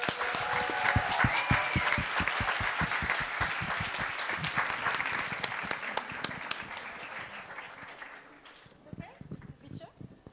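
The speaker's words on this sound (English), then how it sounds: "please join me in applauding our leaders for the class of" An audience at an MBA talent show applauds its class leaders: dense, lively clapping with some cheering and voices in the room, fading toward the end into scattered claps.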